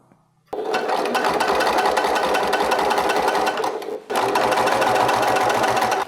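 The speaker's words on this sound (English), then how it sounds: "I have stitched 1 centimeter there so that we've got this center seam" A sewing machine runs loud and close, stitching a 1 cm centre seam on a DIY triangle shoulder bag. Two fast, steady bursts of stitching are split by a brief pause.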